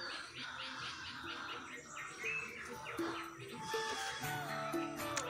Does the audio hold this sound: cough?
no